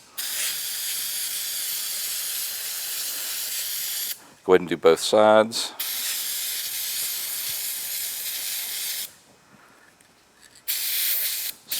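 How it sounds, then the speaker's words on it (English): PJ1 foam filter oil treatment sprays from an aerosol can onto a Kawasaki KLX 110 dirt bike's foam air filter in long, close hissing bursts, paused once while someone speaks briefly. "I'm going to use the foam filter oil treatment spray before we install it"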